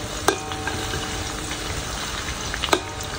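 Lemongrass stalks, leaves and onions sautéing in a pan give a steady close sizzle, with two sharp utensil clinks against the pan near the start and end.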